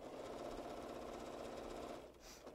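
A sewing machine binds cloth napkins with a fast, steady mechanical whirr of rapid stitching, then it slows and stops near the end. The sound is fairly quiet and there is no talking.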